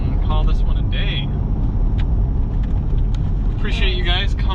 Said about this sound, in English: let's do a few exhaust clips and call this one a day